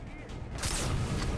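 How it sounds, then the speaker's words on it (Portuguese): A single sniper rifle shot in Far Cry 3 bursts out partway through, a sharp broadband crack followed by a brief rumbling tail. "Vamos ver se ele consegue desviar de tiro de sniper também."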